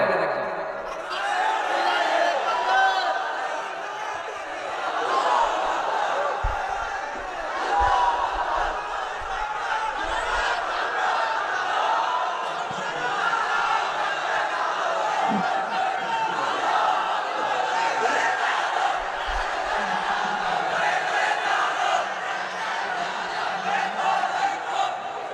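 A large crowd at an Islamic sermon chants slogans together in a loud, continuous roar of many voices that swells and holds steady throughout.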